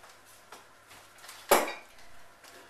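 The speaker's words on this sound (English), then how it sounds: "This is where the spatula comes in very handy as well, to get all the last bit of the mixture out" A spatula knocks sharply once against a tin while scraping out banana bread mixture, with a few softer taps before and after in a quiet kitchen.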